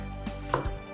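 A knife chopping green pepper on a board while side vegetables are prepared for a chestnut dish, giving a few quick, close, dull knocks in under a second with no talking.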